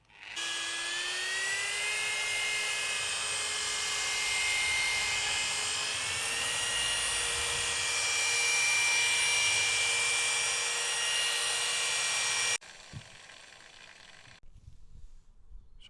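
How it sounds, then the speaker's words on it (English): A high-pitched whining machine polisher sands and buffs car door paintwork to remove a key scratch, a loud steady tonal drone close by with shifting pitch, then cutting off abruptly. "You're not actually doing damage to the paint, you're just sanding the top of the paint down and buffing it up"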